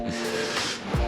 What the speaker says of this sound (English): I'm just gonna spray this down and then I will wipe it after